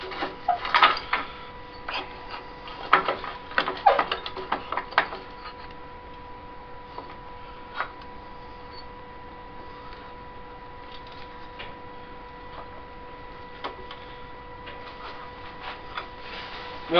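A wood lathe spins an ash natural-edge bowl blank with a steady, fairly quiet mechanical hum. Scattered light ticks and knocks come in the first few seconds, then the drone settles alone.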